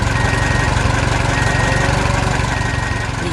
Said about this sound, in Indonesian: Traktor besar membawa trailer penuh pohon.